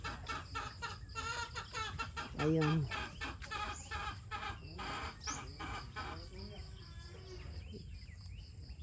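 Chickens cluck close by in a rural Philippine yard, with repeated short calls and one louder drawn-out squawk, while a person speaks briefly among them.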